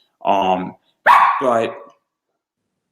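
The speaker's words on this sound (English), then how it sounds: "That's my dog" A dog barks in two short bursts close by, a clipped bark followed after a brief pause by a longer, drawn-out one.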